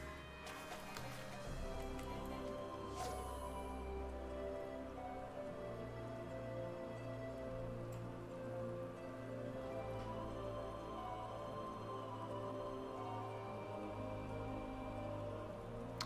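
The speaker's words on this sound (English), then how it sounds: "It started raining." Steady rain patters in a Final Fantasy XIV fishing scene, a soft continuous hiss under low ambient game tones, with a few brief clicks near the start.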